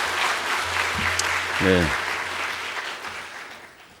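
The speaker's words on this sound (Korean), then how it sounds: "박수를 또 치셔서" Audience applause fills a church lecture hall at a talk on Korea's founding and Christianity, a steady broadband clapping that runs the whole time while someone briefly speaks over it.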